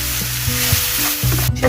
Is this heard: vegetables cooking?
yes